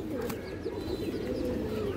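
An old-bloodline black-necked pigeon coos in a low, rolling murmur, continuous and near, with a faint high click early on.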